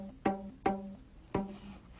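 A homemade instrument made of a rubber band stretched over a box gives three plucked, twangy notes, each with a sharp attack and a short ringing decay amplified by the box, fairly quiet with no talk.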